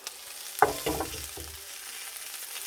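Sausages fry in a pan on a gas stove, giving a soft, steady sizzle with a few brief clattering knocks near the start, quiet and close with no talking.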